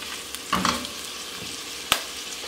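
Chorizo cooking down in its own rendered fat in a pan, a steady crackling sizzle with a couple of brief louder pops and a sharp knock of a utensil near the end.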